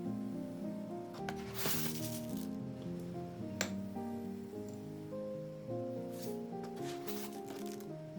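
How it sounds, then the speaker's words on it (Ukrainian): Sugar is poured over hot peppers in a jar, giving soft granular hissing bursts that come and go. It is faint, with a tonal background underneath. "І тепер перці засипаю цукром до самого верху."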